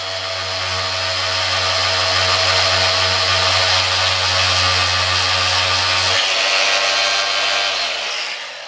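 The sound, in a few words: power sanding tool wet sanding motorcycle tank paint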